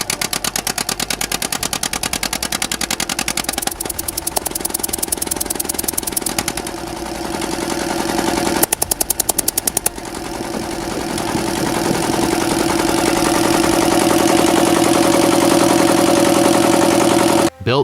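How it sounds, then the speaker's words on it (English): A classic Gouldner GL22 evaporator diesel engine starts with rapid popping firing beats that settle into a steady, loud running drone held close by for the rest of the clip. "the classic Gouldner GL22 evaporator diesel engine fires up with unmistakable charm"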